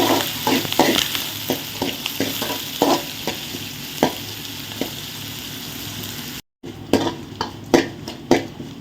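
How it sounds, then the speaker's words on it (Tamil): Garlic sautéing with green chilli and curry leaves in a pan for a Sri Lankan fish curry, a continuous close sizzle with many quick scraping stirs. A brief cut interrupts the sound partway through. "அடுத்தது பூண்டு நல்லா கோல்டன் கலர் ஆகுங்கிறதுக்கு வதக்குவோம்"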